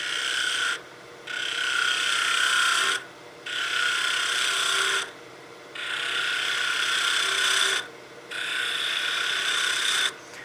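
A spindle gouge cuts wood on a lathe while turning a Christmas gnome, making four long, loud rasping passes separated by short pauses where the cutting stops.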